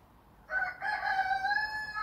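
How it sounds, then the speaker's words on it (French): A rooster crows loudly nearby in one long drawn-out call with no talking; faint background noise comes before the call. "Désolée pour les coqs du voisin."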